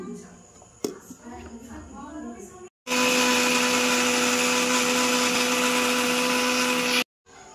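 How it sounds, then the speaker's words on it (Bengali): An electric blender whirs steadily at close range, grinding ginger, garlic, onion, green and dried chilli with a little water into a paste, starting abruptly after kitchen talk and cutting off after about four seconds. "এবার একটু অল্প জল দেব, দিয়ে একটা পেস্ট বানিয়ে নেব"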